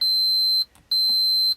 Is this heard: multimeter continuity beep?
yes